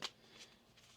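Tarot cards are shuffled quietly up close, a few soft riffling bursts in quick succession against near silence.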